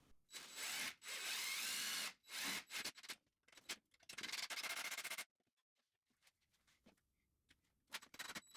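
Power drill driving screws into a 2x4 wooden bench frame to fasten the bench top, in several loud bursts of whirring separated by short pauses and quieter handling noise.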